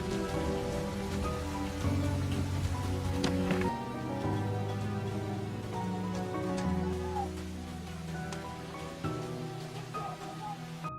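Heavy night rain from the 2019 film The King pours steadily as a dense patter, blended with a sustained musical score underneath.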